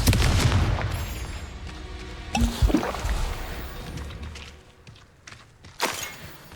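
Confringo fire spell cast in the Hogwarts Legacy video game: a loud fiery blast with rumbling booms, followed by crackling impacts and a couple of sharper bursts as it dies down.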